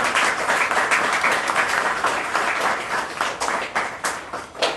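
Audience clapping at an IGPL Production House prelaunch press meet, a dense steady wash of many hands that runs the whole time, moderately loud and fairly close, with a slight surge near the end.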